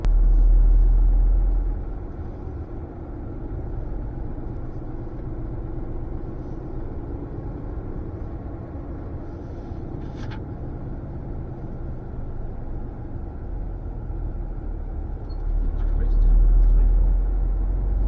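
An HGV truck engine rumbles low and steady as the lorry is spun round in a parking area, swelling louder at the start and end of the manoeuvre.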